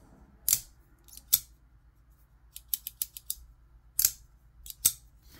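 A Rook pocketknife blade swings open and shut on its pivot, producing sharp metallic snicks and clicks: isolated snaps, then a quick cluster, then a few more, close and crisp in a quiet room.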